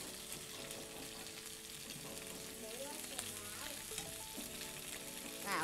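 Tomatoes, onion and garlic frying gently in a pan on the stove, a soft continuous sizzle with faint stirring clicks and a light background hum, no talking.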